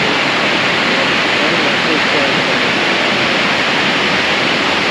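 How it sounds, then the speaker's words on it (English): A rain-fed waterfall in Ketchikan, Alaska roars as a constant, dense broadband rush of falling water, loud and steady with no pauses. "So this is our waterfall. It's fed mostly by rain."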